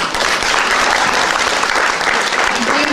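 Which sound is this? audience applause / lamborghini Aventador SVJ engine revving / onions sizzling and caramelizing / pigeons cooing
audience applause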